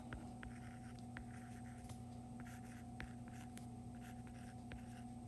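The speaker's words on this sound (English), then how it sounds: "I'm just going to write that down here" Marker or chalk writing on a board during a lesson, a steady run of faint scratchy strokes with short taps, close and alone over a constant low electrical hum.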